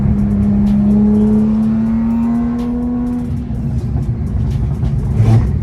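A Porsche flat-six with a redline just under 9,000 rpm revs up in a loud, close, steadily climbing howl that then drops away into a rougher rumble, with no voices over it.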